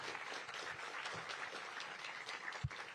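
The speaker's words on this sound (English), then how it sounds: "Big round of applause." Audience applause at a pre-race press conference for the Ironman 70.3 World Championship, a steady wash of many hands clapping at moderate, fairly distant level with one brief low thump near the end.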